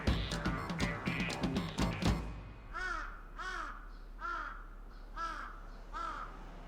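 Crows in a large city give five evenly spaced harsh caws after a burst of other sounds, fairly close and loud, with no talking.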